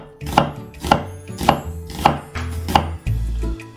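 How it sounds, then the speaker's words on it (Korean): Onion sliced with a kitchen knife on a cutting board, five crisp evenly spaced chops ringing out close and clear, followed by a duller thud and scrape near the end. "양파를 썰어줄 건데요"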